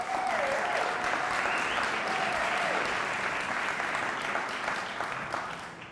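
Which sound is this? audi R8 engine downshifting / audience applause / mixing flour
audience applause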